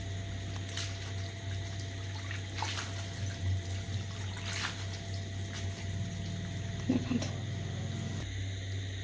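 Cold tap water runs over boiled chowmein noodles in a kitchen sink, a soft steady splash under a low hum, with brief faint clatters near the end.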